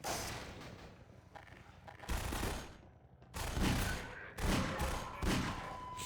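Bursts of gunfire in the Half-Life 2 video game, several loud rapid volleys separated by short pauses, close and punchy, with no talk over them.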